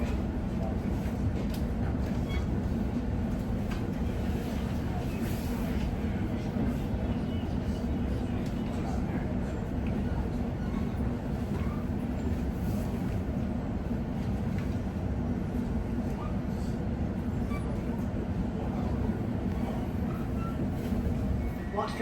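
A London Underground tube train running on from Wembley Central, a steady loud rumble of wheels and motors that stays constant throughout, with no voices.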